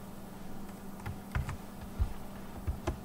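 Typing a sudo command on a computer keyboard, a short run of soft, close key taps in an uneven rhythm over a faint hum.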